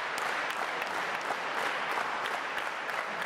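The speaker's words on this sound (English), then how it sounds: "Hendry feeling the energy of this crowd in the Portland Center" Wrestling crowd applauding steadily inside Portland's arena during a Joe Hendry vs Jay Joshua match, a dense, continuous clatter of clapping throughout with no voices standing out.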